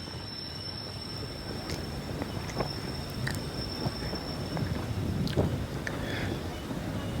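An MRTS suburban train runs on a high elevated track between St Thomas Mount and Velachery, giving a steady loud rumble of wheels on rails with wind noise and brief high squeals.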